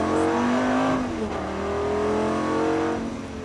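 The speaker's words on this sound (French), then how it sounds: "Donc accélère doucement les roues braquées Alain." A Lamborghini Gallardo on a race track during a driving course accelerates gently with the wheels turned, its engine note climbing loud and close, then dipping briefly before rising again.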